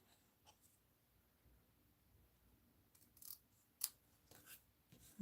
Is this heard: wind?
no